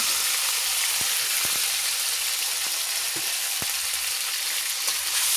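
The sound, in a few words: ground cumin, garlic and chili paste frying in a pan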